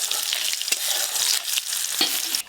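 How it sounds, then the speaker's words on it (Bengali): Black cumin seeds and slit green chillies hitting hot oil for a village-style mustard hilsa dish: a loud, steady, close sizzle with stirring that runs throughout and cuts off abruptly at the end. "ফোড়নে দেবো কালো জিরে, চেরা কাঁচা লঙ্কা, লবণ, হলুদ গুঁড়ো"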